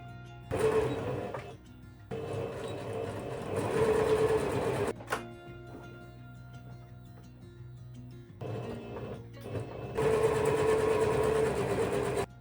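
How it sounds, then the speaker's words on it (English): A sewing machine stitches lace onto a fabric book cover in four bursts of rapid mechanical whirring, separated by short quiet pauses, loud and close. "We are going to sew these lace into here, so on top and then the bottom too."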